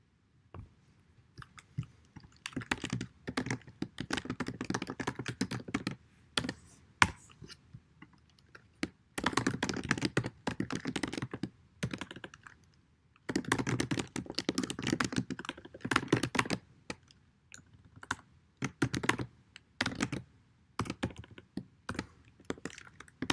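Typing on a computer keyboard while writing C++ code, heard as dense, close clacking of keys in several long bursts separated by short pauses.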